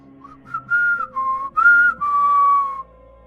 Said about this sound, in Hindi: और एकदम सीटी बजाते हुए चल जाता है